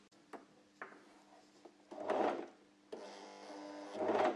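A sewing machine stitching an oval ironing cushion, heard in short bursts of close mechanical whirring separated by quiet pauses and small clicks, as if worked slowly by hand on the flywheel.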